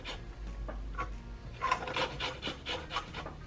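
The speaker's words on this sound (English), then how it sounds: "Another cool way to zest something, right?" Lemon peel is scraped for zest for citrus lemonade, a series of close, short rasping rubs, irregular at first and then quicker, with no talk over them.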